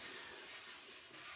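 Wood wax is rubbed by hand onto a wooden board for a double-sided box frame: a steady, close, soft scrubbing hiss that continues alone for just over a second.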